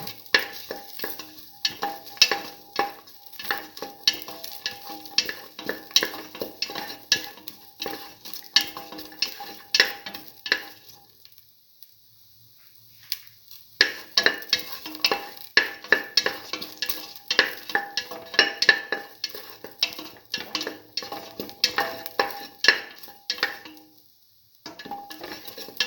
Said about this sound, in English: Saute mix thoroughly.